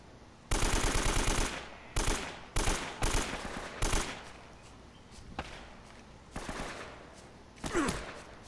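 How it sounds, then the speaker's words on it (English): Bursts of AK-47 automatic rifle fire in Uncharted: Drake's Fortune, a long loud volley followed by several shorter, sharp rattling bursts spaced a second or so apart, with a faint voice underneath. "AK-47 over here."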